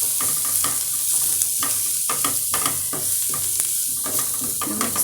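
Chicken gizzard stew is stirred in a hot pan, with repeated rhythmic scraping strokes over a steady close sizzle and no voices.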